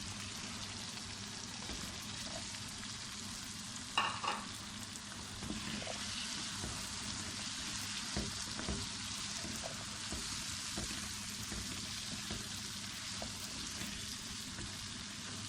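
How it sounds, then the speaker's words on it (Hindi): Meat and chickpeas frying together in a pan for a chana gosht curry, a dense continuous sizzle with occasional soft knocks and one brief clatter, steady and close. "अब इसको भी 2 से 3 मिनट फ्राई करेंगे, भूनेंगे।"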